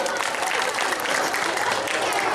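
Audience applause at a girls' school annual function: a dense, steady burst of clapping from a crowd of many hands, loud and close throughout, with a faint murmur of voices beneath.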